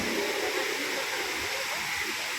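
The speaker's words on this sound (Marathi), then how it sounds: "कशी झुलझुल पाणी वाहतंय" Small waterfall streams spilling over rocks on a forest trail, a steady broadband rushing wash that stays constant and fairly close throughout.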